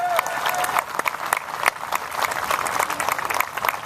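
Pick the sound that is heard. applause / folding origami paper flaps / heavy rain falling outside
applause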